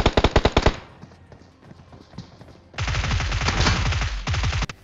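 Automatic gunfire in the mobile shooter BGMI bursts in rapid, loud volleys: a short string of sharp shots, a quieter lull, then a longer sustained burst of fire, close up.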